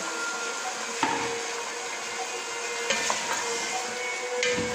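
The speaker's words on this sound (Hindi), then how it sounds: "ये देखिए मैं इसको फ्राई कर रही हूँ। हाई फ्लेम पे सारा काम होगा।" One kilo of chicken fries on a high flame for korma, giving a constant, dense sizzle with a few dull knocks of stirring spoon against pot.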